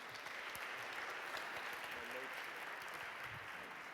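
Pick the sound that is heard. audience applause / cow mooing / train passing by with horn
audience applause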